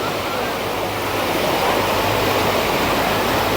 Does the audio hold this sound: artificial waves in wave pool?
yes